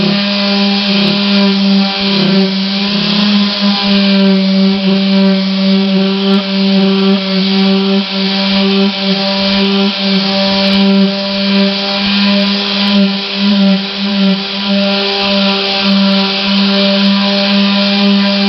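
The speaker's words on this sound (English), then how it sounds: "so now we're going to sand it back again, just enough to get that wood grain coming back through." Steady, loud sanding of stained wood, taken back until the grain shows, a continuous droning rasp with harmonic hum suggesting a power sander, holding constant through the whole stretch with no talk.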